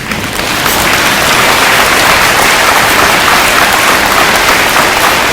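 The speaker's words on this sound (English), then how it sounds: "Okay, you can stop clapping now" Children at an elementary school Veterans Day assembly clapping for Army veterans, a loud, dense and continuous roar of applause from a large group that swells after a brief start.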